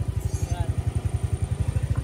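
A motorcycle with a bolt-on JBT B3 exhaust pipe and upgraded valve springs idles close by, its low exhaust thumping in a fast, even pulse throughout.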